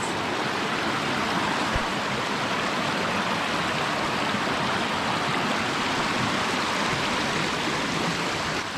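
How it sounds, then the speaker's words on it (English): New Year's Creek in Girdwood, Alaska flows in a constant close rushing wash of water, a broad steady hiss without pause or voices. "This is called New Year's Creek."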